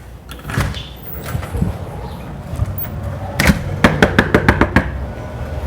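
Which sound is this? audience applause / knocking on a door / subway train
knocking on a door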